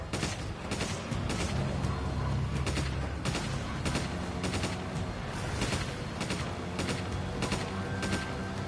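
Rapid bursts of gunfire in Resident Evil 5 on PS5, a dense, steady string of shots crackling close and loud, with mechanical clicks between them and no voices.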